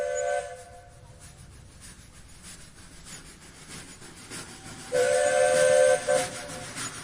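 A steam train whistle blows two sustained, shrill tones with a breathy hiss, the second louder and held for about a second, over a steady rumbling background.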